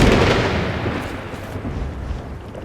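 A lightning thunder crack in Elder Scrolls Online bursts loud at first, then rumbles and fades over a few seconds, close and alone.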